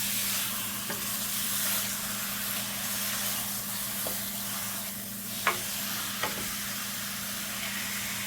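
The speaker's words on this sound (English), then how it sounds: "So you just stir this until it gets all the flavor from the bottom of the pot." A spoon scrapes and stirs in a pot over a steady sizzle and low hum, with a few louder scraping knocks.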